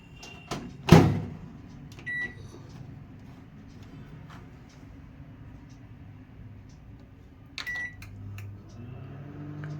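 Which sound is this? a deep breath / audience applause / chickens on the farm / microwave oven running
microwave oven running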